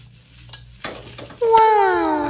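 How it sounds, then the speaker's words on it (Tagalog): Chaupan fried rice is stir-fried in a pan: a few light clinks and scrapes come first, then a loud sizzle bursts in with a ringing squeal and keeps hissing close by. "At minekos ko ng minekos hanggang maluto mga kachaupan."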